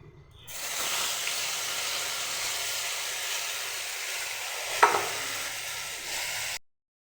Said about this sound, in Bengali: লঙ্কা আর জিরে বাটা দিয়ে দিয়েছি